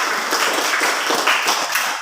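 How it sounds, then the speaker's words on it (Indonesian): Students in a classroom clap for two presenting groups, a close, loud burst of brisk overlapping hand claps lasting a couple of seconds without talk. "Tepuk tangan untuk kelompok 3 dan kelompok 4."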